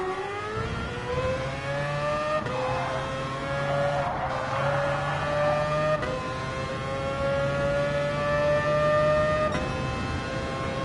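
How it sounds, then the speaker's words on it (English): A Mazda RX-Vision GT3 concept race car in Gran Turismo Sport spins out, its engine droning at steady pitch under long, continuous tire squeal and skidding, with a few abrupt shifts in tone. "next up I'm gonna try and get the car to spin."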